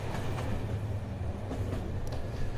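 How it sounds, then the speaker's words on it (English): Train rolling through the Weinviertel wine district north of Vienna, heard as a steady close rumble of wheels and carriage with faint rhythmic rail clicks throughout. "There's nothing very imperial about this train."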